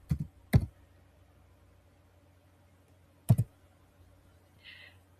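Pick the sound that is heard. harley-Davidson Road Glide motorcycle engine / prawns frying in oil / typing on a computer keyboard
typing on a computer keyboard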